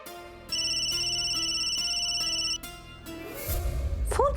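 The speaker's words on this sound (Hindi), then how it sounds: "फोन क्यों नहीं उठा रहे?" A phone ringtone plays loud and unanswered, a steady repeating electronic tone pattern with regular pulses, then stops as music and other sounds rise at the end.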